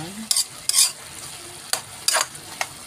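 Ginamay, a salted fish dish, sautés in a pan while a utensil stirs and scrapes it in several quick bursts over a low background sizzle, heard up close with no talking.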